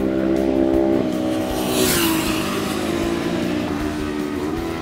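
Superbikes on a race track during a trackday with Pirelli Diablo Superbike tyres, heard from the fence as a loud, sustained high-revving engine roar with shifting pitch as machines pass close by.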